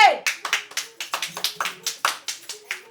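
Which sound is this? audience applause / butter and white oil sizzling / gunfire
audience applause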